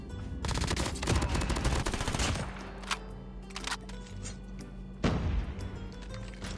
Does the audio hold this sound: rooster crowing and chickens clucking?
no